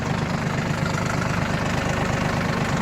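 A Yanmar RS 30 mini tractor engine idles steadily, a continuous low rumble with a fast, even chugging pulse and no other sounds.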